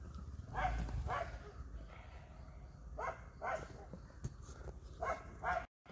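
Several dogs bark in short bursts at a distance, paired yaps repeating every second or two, fairly faint over a low background rumble.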